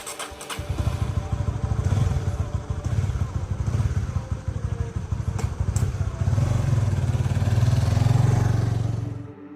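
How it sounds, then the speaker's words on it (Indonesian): A Honda CBR 150R motorcycle ridden along a road at night gives a steady, close engine drone with rhythmic pulsing that swells and eases over several seconds, with faint clatter and wind. "mengendarai motor CBR 150R di jalan yang banyak sekali melintasi tempat-tempat menyeramkan"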